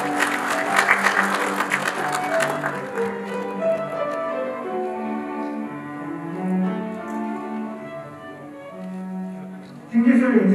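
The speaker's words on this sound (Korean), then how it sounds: "큰 박수 부탁드립니다." Applause from the audience at a Korean new technology and new product certification award ceremony, sustained clapping mixed with a musical fanfare that gradually fades, before a louder burst of clapping returns at the end.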